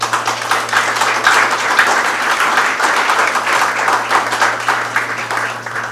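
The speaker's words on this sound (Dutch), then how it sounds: "APPLAUS." An audience at a Jet Air launch event in Suriname applauds, a loud, sustained burst of many hands clapping over a faint steady electrical hum, with no talk.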